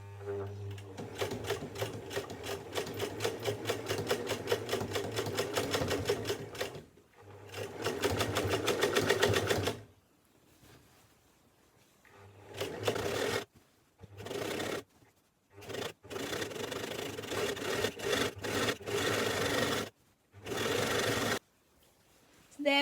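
A sewing machine stitching an elastic seam on a dress, running in rapid mechanical bursts with short pauses between runs, close and clear, no talking.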